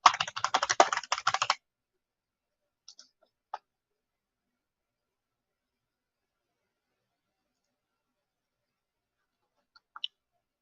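Rapid typing on a computer keyboard fills the first second and a half, a dense close-up clatter of keys, then a few isolated clicks follow later against near silence.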